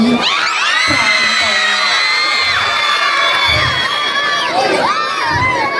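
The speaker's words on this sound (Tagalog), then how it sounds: "At hiyawan." A large audience at a Philippine pageant cheers, shouts and whoops loudly and continuously, with high-pitched screams sweeping over a dense crowd roar for several seconds.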